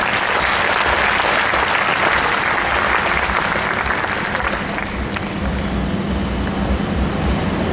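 A large audience at a Christian conference session in Manila, Philippines, applauds for a bereaved family, with loud, dense clapping sustained throughout and a slight dip partway before it builds again, unaccompanied by speech.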